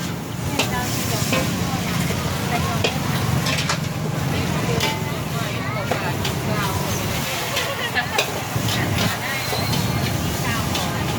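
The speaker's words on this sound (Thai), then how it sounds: "แกปรุงทีเดียวสี่กระทะเลยนะฮะ" Loud continuous sizzling and clanking of metal utensils against four woks of pad thai at a street market in Hat Yai, Thailand, with people talking over the busy frying noise.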